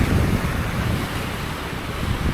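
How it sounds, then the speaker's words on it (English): Ocean surf rolls onto a long sandy beach in Da Nang, a steady broad roar mixed with wind buffeting the microphone, continuous and fairly loud with no voices. "So this beach is about 40 kilometers long"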